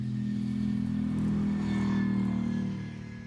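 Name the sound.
Lexus LFR race car engine, probably V8, revving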